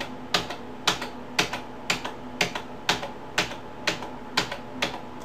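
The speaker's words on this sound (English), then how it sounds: "You can hear my finger tapping on the keyboard." Steady finger taps on a computer keyboard, about two sharp clicks per second in an even rhythm, close and clear with no talking.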